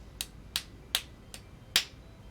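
Five sharp, separate clap-like snaps ring out at an uneven pace, close and crisp against quiet room tone, a person mimicking a seal clapping.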